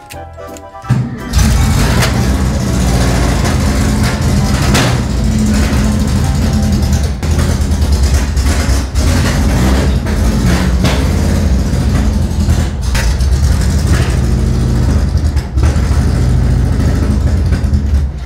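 A small moped-engined microcar engine sputters, catches and starts, then runs loudly and steadily with a rough, buzzing idle and occasional clatter.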